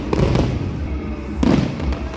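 A fireworks display at a festival in Negros crackles and booms, two loud bursts about a second and a half apart against a dense background of crowd noise.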